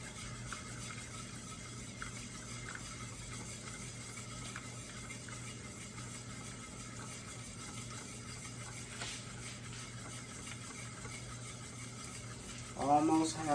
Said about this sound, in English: we're going to slowly add these egg yolks, the 4 egg yolks, into our milk. And continue to stir while we're doing that.